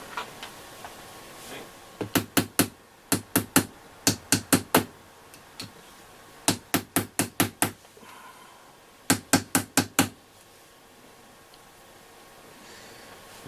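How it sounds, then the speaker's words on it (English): A heavy screwdriver taps all around a Hacker Sovereign RP18 transistor radio while it is connected to 50 volts. The sharp, close knocks come in quick bursts of four or five, separated by short pauses. "Just tapping it all round now with it connected to 50 volts."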